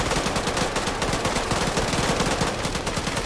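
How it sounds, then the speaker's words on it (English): Two PKM machine guns fire sustained full-auto bursts at a weapons cache in an Arma battle on Takistan, a dense, loud, continuous rattle of gunfire with no pauses. "There's 2 PKMs mag dumping the cache"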